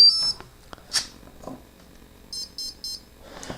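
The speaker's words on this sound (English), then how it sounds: "Alright, so looks like the motor has calibrated." ESC and motor of an RC flying wing powered by a 1300 mAh three-cell battery, emitting three short, evenly spaced electronic calibration beeps near the end, after a few faint clicks and handling sounds.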